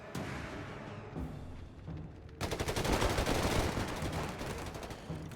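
Light machine guns fire in a Company of Heroes 3 battle between Afrika Korps and US Forces, with dense, sustained rattling bursts that swell louder halfway through amid overlapping gunfire.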